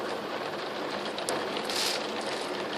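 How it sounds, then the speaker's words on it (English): Steady rain falls outdoors near a motorway, a dense, even hiss of drops on surfaces that continues without pause, fairly close and moderately loud, with no talking. "But yeah, it's raining."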